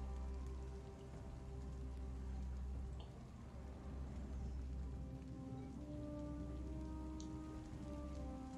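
Steady rain falls in the Total War Warhammer 3 video game, a constant even patter over a low rumble that continues without pause.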